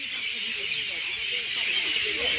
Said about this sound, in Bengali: কত পাখির ডাক